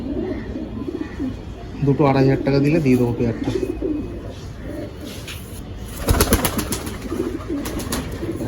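Pigeons cooing at a pigeon sale, soft throaty coos rising in short bursts close by, with someone talking over them and a brief rustle of handling partway through.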